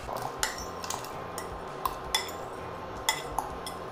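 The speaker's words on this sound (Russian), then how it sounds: "Первым в кипящий бульон закладываем картофель." Potato pieces are dropped into a pot of boiling broth for Ukrainian borscht, giving a handful of light clinks and knocks against the pot spread unevenly over a few seconds, close and fairly quiet, with no speech.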